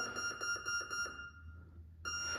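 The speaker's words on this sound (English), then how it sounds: "Now I got my 6 beeps. That tells me that my ESC is fully calibrated." A quick series of short electronic beeps from an RC model's electronic speed controller during calibration, a brief silence, then a tone starting again; clear and close.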